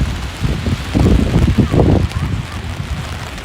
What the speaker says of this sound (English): The rain is really coming down here now, everybody.